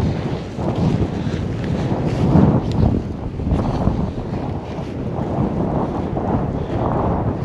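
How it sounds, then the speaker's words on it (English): Strong wind blowing on a lake during winter crappie fishing, a steady loud rushing roar buffeting the microphone with no pauses. "Especially in this freaking wind."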